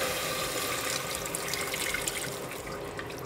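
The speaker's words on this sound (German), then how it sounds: "gebe ich nach und nach mehr Wasser hinein" Water pours gradually into a pan of garlic and tomato paste frying in oil, a steady close splashing stream that runs continuously without talk.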